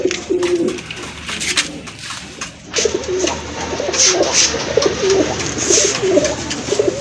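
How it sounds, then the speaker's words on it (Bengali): Black short-faced, double-barred pigeons coo in soft, repeated low calls. The birds are close, and the calls rise and fall across the whole stretch without any talking. "আরেক জোড়া কবুতর, এটা হচ্ছে ব্ল্যাক শর্ট ফেস কবুতর, ডাবল পট্টির কবুতর"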